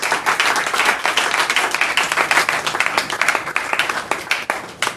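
A church congregation applauds, a dense, steady wash of many hands clapping that goes on throughout without pause and fades slightly toward the end.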